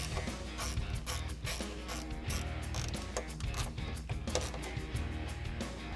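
Hardtop mounting bolts on a 2007-2018 Jeep Wrangler JK being tightened down for ZRoadz light bar brackets, a close, continuous rapid ratcheting clatter with quick repeated clicks throughout.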